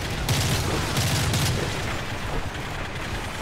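Rapid machine-gun fire from an enemy MG position in Modern Warfare 3 during the Paris campaign, loud and sustained in bursts over dense battlefield noise.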